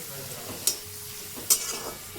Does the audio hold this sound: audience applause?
no